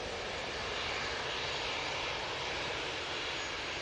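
Airliner powered by Rolls-Royce RB jet engines roaring on takeoff at Manchester Airport, a broad, steady rushing roar that stays constant and fairly distant, with no voices over it.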